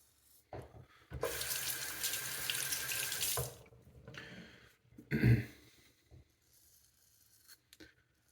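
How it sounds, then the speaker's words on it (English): Tap water runs into a sink for about two seconds to wet a razor during a wet shave, a steady close hiss, then brief splashes and handling noises. "We're gonna wet the razor."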